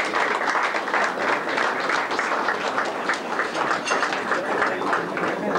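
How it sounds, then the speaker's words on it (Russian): Dense, steady applause from a concert hall audience at a jubilee tribute concert, continuous and fairly loud throughout with a busy rippling texture of many hands. "В Октябрьском аплодируют лучше."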